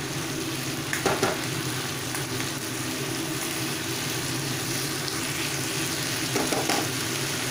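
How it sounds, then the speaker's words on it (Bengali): Steamed vegetable stalks fry over a full gas flame, giving a constant, close sizzle broken by a couple of brief stirring scrapes, with no talk. "এটাকে আর একটুখানি গ্যাসটাকে ফুল ফ্লেম করে একটু ভাজা ভাজা করে নেব"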